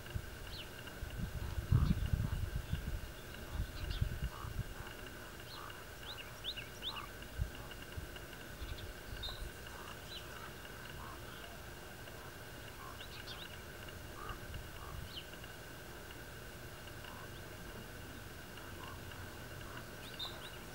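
Small birds chirp and call intermittently outdoors near sunset, light repeated notes scattered over a steady low background hum, with a few louder rustling thumps near the start.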